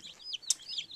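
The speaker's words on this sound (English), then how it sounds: "that's a little black Cochin hen" Small black Cochin hen clucking close by, a few quick soft clucks and chirpy calls in about a second, with one sharper note in the middle.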